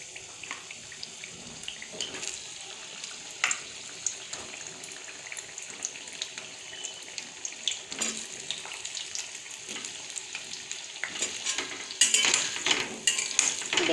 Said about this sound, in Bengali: এবার আমি এই তেলের মধ্যে পটল আর আলুটা হালকা করে ভেজে নেব